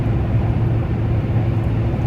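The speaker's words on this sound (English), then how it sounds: "it definitely makes the truck sound so much better" Chevrolet Silverado truck fitted with a cold air intake, its engine holding a steady low droning idle or light rev, loud and close with no voices.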